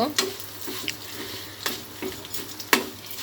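Semai vermicelli frying in ghee gives a steady sizzle, broken by scattered scraping strokes of a spoon stirring through the pan, close and continuous.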